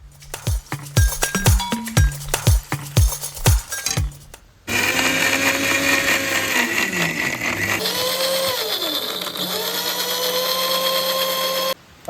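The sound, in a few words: mixer grinder grinding chopped ginger with water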